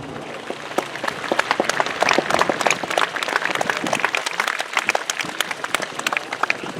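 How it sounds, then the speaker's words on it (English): A crowd at a Tankfest World War One battle reenactment applauds, many hands clapping in sharp, crackling bursts that swell and hold for several seconds at moderate volume. "Big round of applause for Chris Compson."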